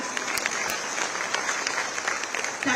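Sustained applause from a large crowd at the opening ceremony of a silk expo in Uttar Pradesh, a dense, even wash of clapping that carries steadily throughout.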